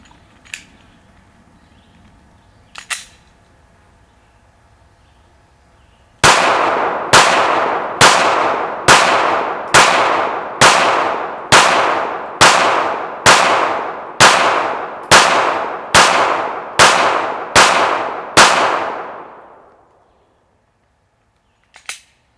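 A Gen4 Glock 19 with its stock extractor fires 147 grain Winchester Super X 9mm rounds: two separate shots, then a rapid, evenly spaced string of about fourteen loud, sharp reports, each ringing briefly before the next.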